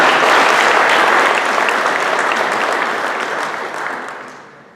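A large crowd at a public meeting for Modi in Irving applauds loudly and steadily, and the clapping gradually fades toward the end.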